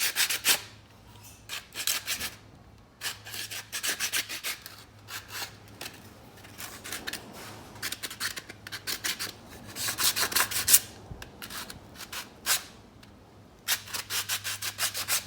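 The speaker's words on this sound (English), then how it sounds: "And I'm just basically gonna be sanding it." Hand sanding of a play button, with quiet rhythmic rasping strokes coming in short bursts separated by pauses, close up, plus a low steady hum underneath.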